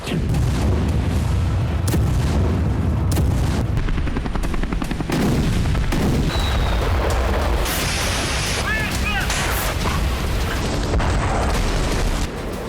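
Explosions and artillery fire from war footage, heavy booms and rumbling blasts with gunfire-like cracks, dense and loud throughout with some voice mixed in.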